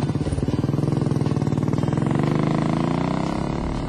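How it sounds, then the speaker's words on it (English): A Royal Enfield Bullet motorcycle engine of about 25 horsepower idles close by, with a steady, even thumping pulse that holds loud and unbroken throughout. "the engine idles cleanly and has good bottom-end pull"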